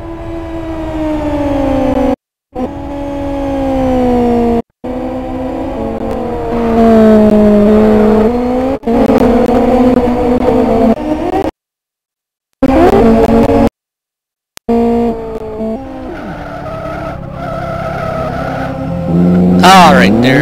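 Race car spinning out during lap 8 of a Cityliga 15 sim-racing round, engine tones sweeping up and down with tire skid noise, briefly cut by gaps, heard under steady commentary.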